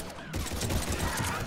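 A short burst of rapid gunfire from Mass Effect 3, dense and fairly loud, with a voice talking faintly over the shots.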